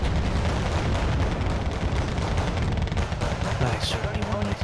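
Artillery and mortar fire in the video game Wargame: Red Dragon booms and crackles in a dense, continuous barrage, loud and close, with a voice talking over the battle.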